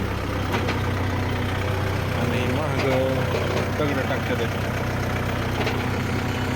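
A tractor engine runs at a steady idle on a farm, a low continuous rumble held throughout. Someone talks over it, with faint clanks in the background.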